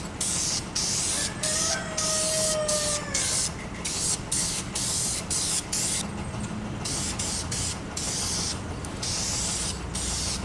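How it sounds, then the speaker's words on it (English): Spray lacquer hissing steadily onto cedar nightstand legs in a workshop, continuous loud bursts of spray with brief gaps, close to the microphone. "The legs and then the drawer fronts will be finished with spray lacquer"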